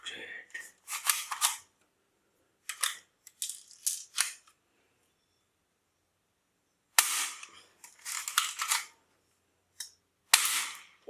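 Ball-bullet toy guns in the style of an MP5 or MP7 fire in sharp bursts of snappy plastic clicks and pops, grouped in quick clusters separated by silent gaps, loud and close.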